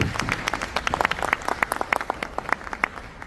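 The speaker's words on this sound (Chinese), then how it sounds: "应该要好好的再给我们老板一个掌声" An audience applauds for the boss at a leadership training conference in Poland, a dense, steady patter of many hands clapping close by with no talk over it.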